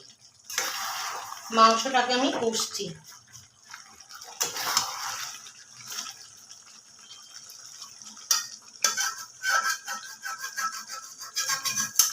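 Spice-rinsing water poured into a pan of chicken kosha cooked with ghee and sugar, with intermittent splashing, pouring and clinks of utensils close by while a person talks.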